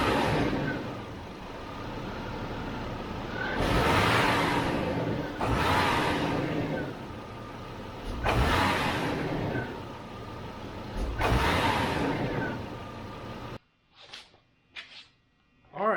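A GM truck engine, its cracked exhaust manifold just sealed up, runs steadily at close range, with several surges of revving and a brief rough stretch before it cuts to near quiet with faint knocks at the end.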